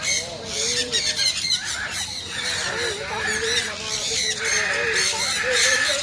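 Flock of birds at a bird sanctuary in Hambantota, Sri Lanka, squawking and squealing in loud overlapping bursts close by, with a constant raucous chatter and no clear speech.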